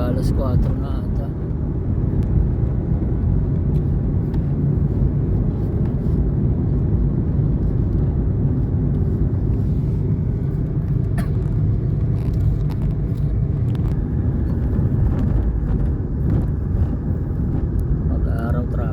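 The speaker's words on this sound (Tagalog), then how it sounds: "Grabe ang traffic." Continuous dense road traffic rumble in a congested Philippine street, with steady engine drone and passing vehicles filling the whole stretch, loud and unbroken, with faint voices mixed underneath.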